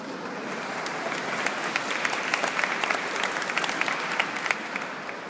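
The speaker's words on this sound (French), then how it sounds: "J'espère que c'est pour le Seigneur que vous applaudissez" An audience at a Catholic religious gathering applauds for several seconds in a dense, even wash of many hands clapping, steady and sustained with a slight swell in the middle and no speech over it.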